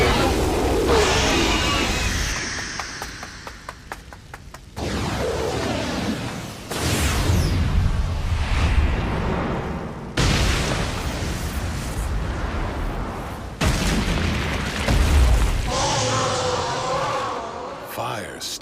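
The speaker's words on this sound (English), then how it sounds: "Fire style! Fireball jutsu!" An anime fireball attack roars out in a series of loud, booming explosive bursts and whooshing rushes, cutting in and out across several blasts, mixed with shouted voices.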